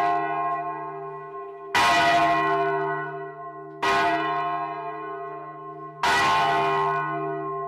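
Several church bells of a Romanesque and Gothic bell tower rung together by a bell ringer, three loud clanging strikes spaced about two seconds apart, each ringing out with long, layered overtones and no voices.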